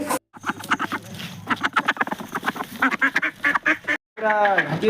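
Several ducks quack in quick, busy bursts close by, calls overlapping almost continuously with a couple of brief pauses.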